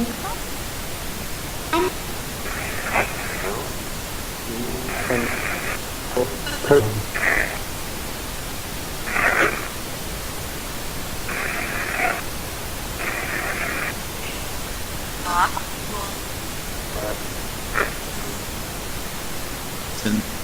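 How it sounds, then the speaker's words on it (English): Steady pink noise hiss generated by a phone app and fed into one channel only, continuous and fairly quiet, with short brighter bursts of static-like noise appearing at irregular moments over it. "the pink noise is in one channel only"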